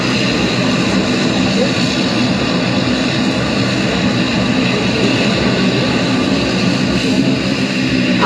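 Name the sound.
airplane at Barishal airport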